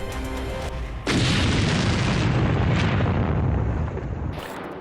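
A Soviet-era 1500 kg KAB guided aerial bomb explodes in one sudden, massive blast, followed by a loud, sustained roar and rumble of debris that slowly fades.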